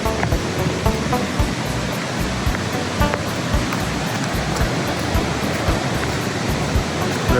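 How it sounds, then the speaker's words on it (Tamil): A 30-foot waterfall in Lynn Canyon, Vancouver, heard up close as a steady, loud, broadband roar of falling water that runs unbroken throughout, with no voices. "இந்த 30 foot வாட்டர் ஃபாலை கிட்ட போய் நின்று பார்க்கலாம்"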